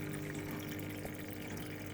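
Water pump drawing water up through a pipe into a homemade filter of gravel and cloth; a steady, continuous hum with gushing water underneath, unbroken for the whole stretch and no voices.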